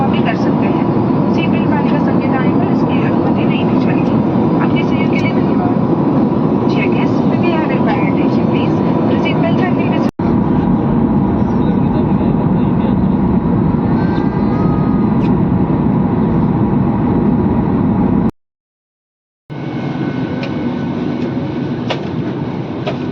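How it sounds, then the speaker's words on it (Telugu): Airliner cabin noise during a smooth takeoff on a flight bound for the Sabarimala pilgrimage, a loud steady engine roar and rumble filling the clip with brief gaps, while a person talks over it. "టేక్ ఆఫ్ అయింది చాలా స్మూత్గా టేక్ ఆఫ్ చేశారు"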